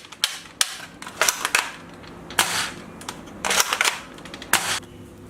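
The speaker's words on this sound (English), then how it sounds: "Giant toy gun." A realistic toy AK47 gun fires ball bullets in sharp, close plastic clacks and snaps, some single and some in quick bursts, with mechanical clicks between shots and no talking.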